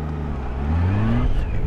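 A motorcycle engine rises steadily in pitch as the rider throttles through a left turn on a street, with loud, continuous engine and wind noise close by.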